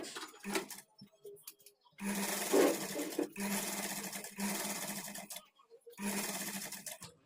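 A sewing machine stitches the neck facing strip of a blouse in several short, even bursts separated by pauses, with a person talking in the gaps.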